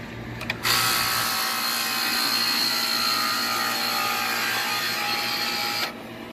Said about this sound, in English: we're going to listen to see if the compressor and the fan motor turn on